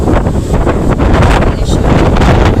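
Strong wind buffets the microphone at Boracay Keyhole, a steady loud roar of gusts with no voices, the blustery rush continuing throughout.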